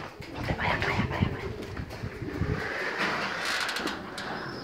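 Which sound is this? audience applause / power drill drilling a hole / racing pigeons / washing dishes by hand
racing pigeons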